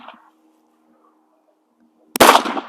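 A single sharp shotgun blast at a clay-target shooting stand, loud and close, following a long near-silent pause and trailing off in a short broadband roar.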